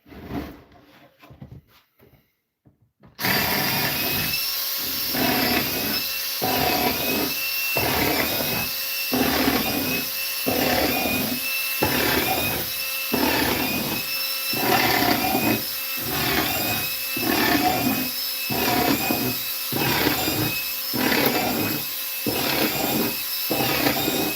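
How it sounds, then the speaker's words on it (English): A drill bores into cedar in a long run of evenly spaced bursts, each a loud grinding whir followed by a short gap, after a few quiet taps. "now it's time to drill some holes in this one"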